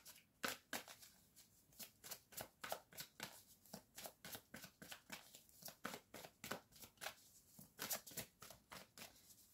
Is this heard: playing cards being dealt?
yes